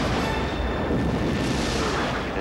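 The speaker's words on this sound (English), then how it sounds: "as the saucer accelerates away from the body explodes behind them" Enterprise starship hull exploding in a Star Trek film scene, a dense, continuous roaring blast rumble that stays loud and broad for the whole stretch without a clear separate attack.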